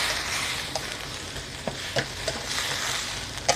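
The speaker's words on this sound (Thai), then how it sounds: "ผัด ให้ เข้ากันค่ะ ขั้นตอนนี้ใช้ไฟแรงได้นะคะ" Mixed vegetables and straw mushrooms stir-fried in oyster sauce over high heat, a dense continuous sizzle with scattered light scrapes and taps of a spatula against the pan.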